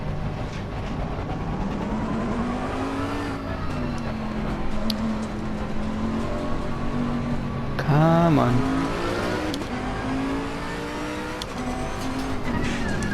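Bentley GT3 race car engine in the game Assetto Corsa Competizione, a steady loud drone with shifting pitch and a brief rev surge midway, running throughout under a short spoken remark.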